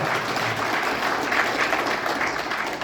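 Welcoming applause from guests at a foundation launch ceremony in Busan, a steady even patter of many hands at moderate volume with little else audible.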